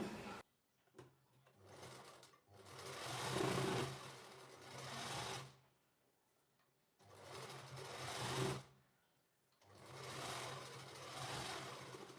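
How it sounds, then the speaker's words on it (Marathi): A sewing machine double-stitching seams on a toddler girl's frock runs in three close, loud bursts of rapid whirring stitches separated by quiet pauses, with no talking. "त्याआधी मी डबल टिपा टाकून घेणार आहे डबल टीप टाकणं गरजेचं आहे"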